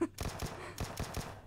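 Gunfire in the mobile battle royale PUBG Mobile, two quick bursts of close, sharp shots in an uneven rhythm, fairly quiet overall.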